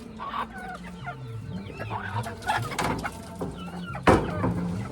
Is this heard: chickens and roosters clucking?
yes